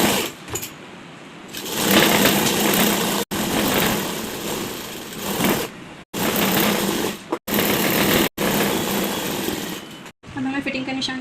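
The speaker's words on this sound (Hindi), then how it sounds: "अब हमें लाइनिंग पर नीचे इस तरह से यहाँ पर सिलाई लगानी है सीधी।" Sewing machine stitching a straight seam along the lining of a baby frock, running in steady close bursts of a few seconds with brief stops between, with someone talking intermittently.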